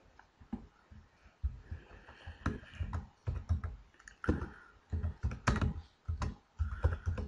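Typing on a computer keyboard, close and fairly quiet, with irregular bursts of key clicks and pauses between short runs of keystrokes.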